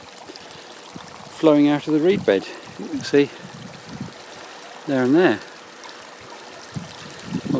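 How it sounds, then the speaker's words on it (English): Pumped water runs steadily out of a reed bed in a continuous trickling stream, with someone talking briefly over it. "I'm amazed at how quickly that's flowing out of the reed bed."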